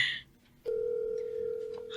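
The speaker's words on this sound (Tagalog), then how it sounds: "nagri-ring na" A cellphone placing a call sounds a single sustained ringback tone that begins after a short quiet pause and holds steadily, clear and fairly close, with no talk over it.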